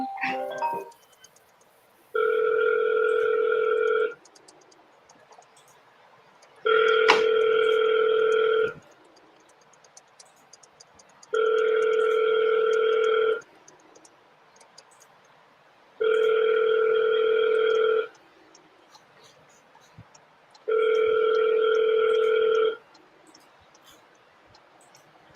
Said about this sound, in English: We'll know right now if it gives me the dial tone.